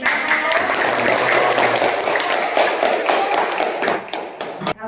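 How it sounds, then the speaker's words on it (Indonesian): Applause from a classroom of students at the close of an Islamic religious education lesson in an elementary school, dense and steady throughout before thinning out near the end. "Ya, tepuk tangan."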